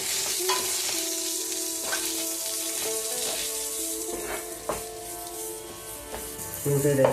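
Medium-sized onions frying in a cooked-down masala paste for a pearl spot fish gravy, a steady close sizzle with repeated spoon scrapes against the pan, and no talk.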